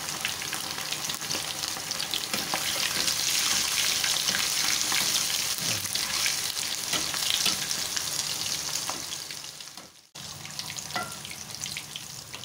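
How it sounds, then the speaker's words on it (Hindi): Steamed chicken deep-fries in hot oil in a big kadai, giving a loud, steady sizzle and crackle close up, with a short drop near the end before the frying resumes. "अब ये सारा चिकन इसमें डीप फ्राई कर लेंगे गोल्डन होने तक, या 4 से 5 मिनट के लिए।"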